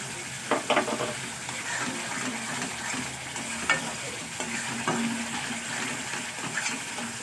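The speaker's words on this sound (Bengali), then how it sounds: "একটু সামান্য জল দিয়ে মশলাটাকে খুব ভালো করে কষিয়ে নেব" Spice paste with a splash of water and chili powder being sautéed and stirred in a pan for a magur catfish curry, a steady soft sizzle with occasional spoon scrapes, fairly close and without talk.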